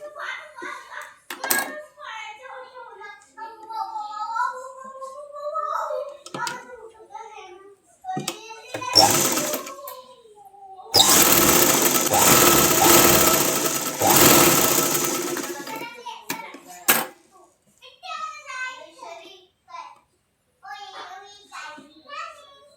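Sewing machine top-stitching the upper edge of a dress, a dense continuous whir running about five seconds in the middle, loud and near, between stretches of someone talking, with brief clicks of handling fabric.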